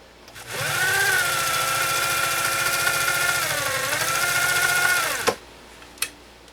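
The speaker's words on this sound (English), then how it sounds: "I'm going to lay down another straight stitch and I'm going to shorten that stitch length considerably." A PFAFF 130-6 sewing machine runs a straight stitch at a shortened stitch length in one steady, loud whirring burst of about five seconds with a fast mechanical chatter, followed by a couple of soft clicks.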